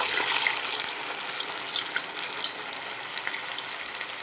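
Lentil and spinach vada frying in hot oil, a steady dense hiss and bubbling crackle that holds continuously from start to end, close and fairly loud.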